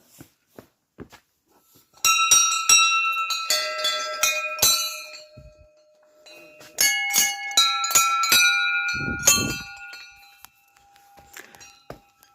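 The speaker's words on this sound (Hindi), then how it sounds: "सुना बहुत था, घंटी की आवाज़ बहुत सुनी" Brass temple bells ringing at Kartik Swami Temple, struck in two clustered bursts of bright overlapping clangs with long ringing tails, close and loud, separated by quieter pauses.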